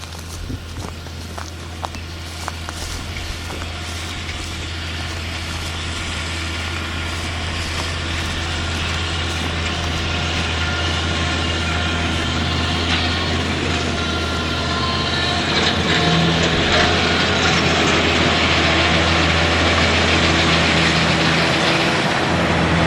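A steady, low tractor engine drone runs throughout while mowing alfalfa, with a constant hum and rumble, rising slightly in loudness toward the end; no voices.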